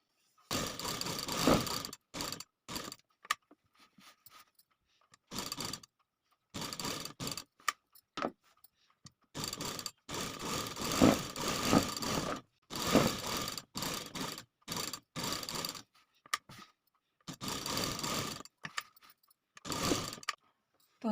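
A sewing machine stitching along the edge of buckram, running in repeated bursts of rapid mechanical clatter separated by short pauses, close and fairly loud.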